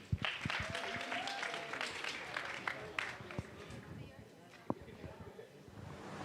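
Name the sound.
audience applause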